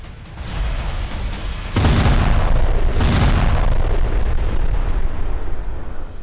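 Chinese army artillery fires during a live-fire drill on the high Tibetan plateau. Two heavy booms break out a second apart, loud and close, each rolling into a deep, sustained rumble over a constant background roar.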